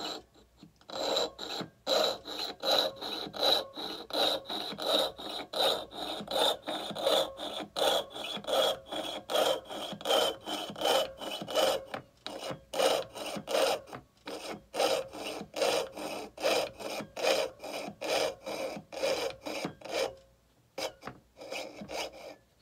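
Fine jeweler's saw piercing out a spoon silhouette, cutting steadily through the metal in quick, even strokes, a continuous close rasp that runs almost without pause and drops out only briefly.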